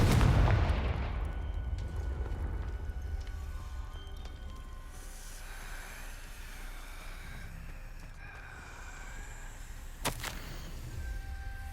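The Confringo blasting spell fires in Hogwarts Legacy, a heavy booming burst that trails into a long rumbling decay, with a sharp crack near the end, loud and alone.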